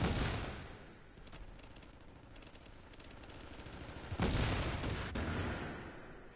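Gunfire in The Division video game: a continuous, dense stretch of shooting with a sharper, louder burst near the end, fairly close and without talk.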